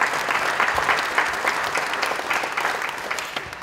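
The crowd at the Divinity Foundation's 10-year anniversary event gives a dense, steady round of applause, many hands clapping together at moderate volume and tapering slightly at the end, with no talking.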